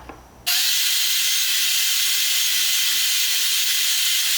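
Waste wood is cleared out of a groove or dado cut with a Kerfmaker jig. After a brief quiet moment a loud, continuous, close hissing and whirring noise starts suddenly and holds steady.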